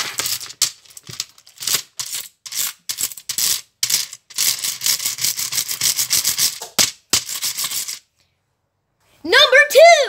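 A brush scrubbed hard across a computer keyboard in rapid bristly bursts, an uneven rhythm of scratchy strokes that stops near the end before a voice speaks.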